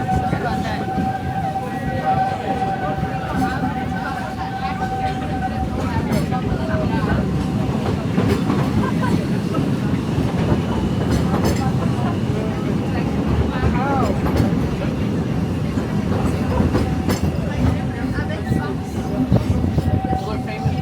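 A loud, steady rumble of the Walt Disney World Railroad train rolling along the tracks, with a continuous rattling clatter throughout.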